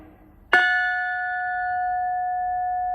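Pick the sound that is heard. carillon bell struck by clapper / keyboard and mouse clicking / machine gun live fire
carillon bell struck by clapper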